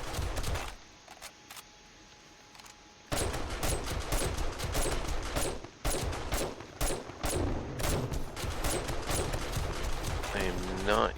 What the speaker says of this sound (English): The machine gun is effective.